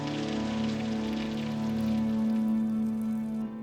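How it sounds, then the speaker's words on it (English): Steady rain falls throughout, a dense hiss of drops with a constant low hum underneath, continuous and even for the whole stretch. "it will rain and rain and rain"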